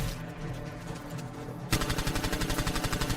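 A turret fires in rapid rhythmic bursts in the game Anthem, close and loud, kicking in partway through after a steadier stretch of combat noise.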